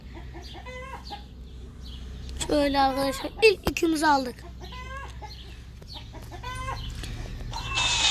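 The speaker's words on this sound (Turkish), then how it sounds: "Tavuklar ötmesi." Video game chickens cluck and squawk repeatedly in the background while someone talks over them.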